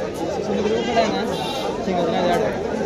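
Goats bleat amid a busy Saturday goat market in Koregaon, with dense crowd chatter and voices talking throughout, the animal calls mixed into the steady loud background.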